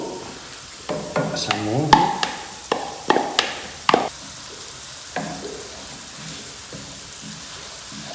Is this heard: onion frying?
yes